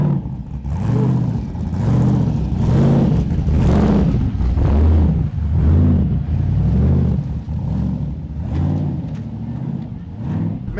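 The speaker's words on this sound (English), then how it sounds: "when I see a Mercedes sedan drive by with a massive motor that is so loud" A loud Mercedes sedan with a massive motor roars nearby, its deep engine note swelling and easing in repeated rev-like surges over about ten seconds.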